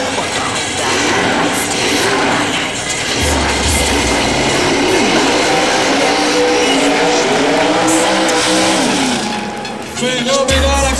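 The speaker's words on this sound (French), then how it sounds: "On va remettre un peu d'eau pour lui permettre de prendre la rotation de pneus suffisante." A tuned car at a 2004 tuning meet in Nevers revs hard and spins its tyres on wet ground. The engine roars loudly and continuously close by, with a brief dip before the noise surges again.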